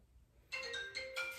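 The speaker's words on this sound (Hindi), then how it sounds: "आई डोंट नो किसका फोन आ रहा है" A phone rings with an incoming call: after a brief quiet moment, a short melodic ringtone starts and repeats its notes. It is fairly faint and heard alone, without any talking.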